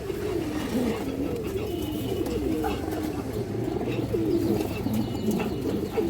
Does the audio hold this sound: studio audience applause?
no